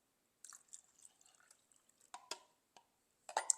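Soured milk trickles and drips into a bowl of whisked eggs for pancake batter, heard as soft, scattered liquid splashes and small clinks, quiet and close with pauses between.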